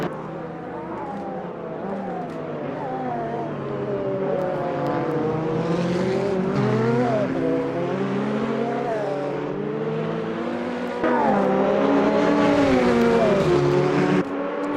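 Race cars lap Imola or Kyalami in the sim racing game Automobilista 2, engines whining steadily and rising through the gears with a sharp pitch change near the end, and a faint voice underneath.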